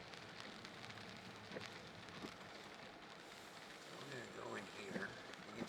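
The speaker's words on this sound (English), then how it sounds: "See all the rain." Heavy rain comes down hard outside a garage, a steady soft hiss of drops on surfaces that holds throughout with slight swells near the end.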